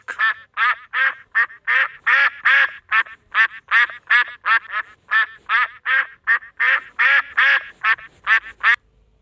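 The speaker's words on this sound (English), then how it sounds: "Duck." A duck quacks loudly and close in a long, even series of about twenty sharp, evenly spaced calls, alone against a quiet background.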